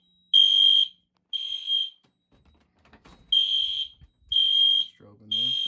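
A smoke detector fire alarm, set off with real smoke during a monthly system test, sounds five loud, piercing electronic tones in an uneven pattern, with quiet rustling and brief speech in the gaps.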